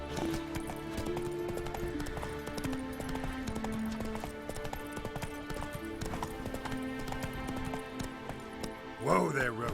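Steady clip-clop of the horse Roach's hooves in the Witcher 3 game, a continuous even rhythm under background music, with a brief horse snort or whinny near the end.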